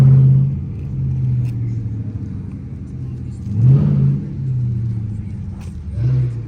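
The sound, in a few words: Dodge Charger Hellcat 6.2 liter V8 engine rumbling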